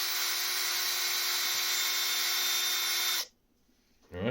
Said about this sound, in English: The drill made it probably 3 or 4 minutes worth of whizzing